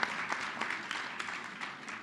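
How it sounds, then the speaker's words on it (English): An audience at a gala applauds, a steady dense patter of clapping from a crowd at moderate volume throughout, with no voices over it. "Let's give them a round of applause for their great leadership."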